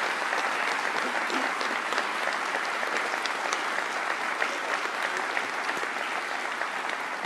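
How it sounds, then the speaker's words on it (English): Dense, sustained applause from an audience at a county cabinet meeting, steady clapping throughout with no pauses and no voices over it. "let's give this Lieutenant Governor a round of applause as well"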